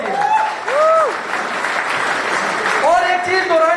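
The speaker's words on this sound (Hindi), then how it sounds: "जोरदार तालियां बजा लो अपने लिए।" A networking seminar audience claps for themselves in a loud, sustained burst while voices call out and talk over it.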